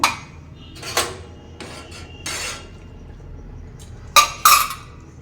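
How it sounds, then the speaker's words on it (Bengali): Tea is strained into cups with several separate glassy clinks and scrapes of a strainer against the rims, loud and close in a quiet room. "চা হয়ে গেছে চাটা ছেঁকে নেবো"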